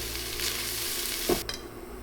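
White wine and apple cider vinegar poured onto sizzling onions in a stovetop pressure cooker, a constant frying hiss with a sharp splash and a brief louder burst as the liquid hits.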